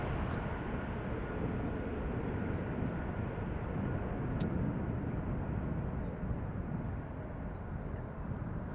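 A passenger airplane departing Amsterdam Schiphol on its way back to Iceland gives a steady, broad engine roar that holds at an even loudness throughout, with no voices.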